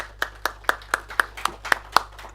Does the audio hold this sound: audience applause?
yes